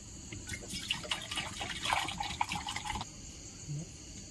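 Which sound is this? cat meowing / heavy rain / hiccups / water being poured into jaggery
water being poured into jaggery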